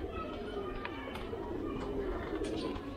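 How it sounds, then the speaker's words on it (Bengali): Caged female pigeons bathing and walking in water give soft low coos alongside faint splashing and shuffling, fairly quiet and continuous. "পানিতে গোসল করতেছে নামতেছে খুলতেছে হাঁটতেছে কবুতর"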